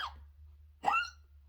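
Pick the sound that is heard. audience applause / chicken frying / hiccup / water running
hiccup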